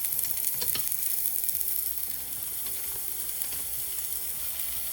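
Minced garlic and onion sizzling steadily in a hot pan while being stirred, a close, continuous hiss with occasional clicks and scrapes, no talking.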